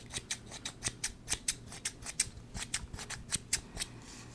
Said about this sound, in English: I wonder if people have ever tried to cut hair like this.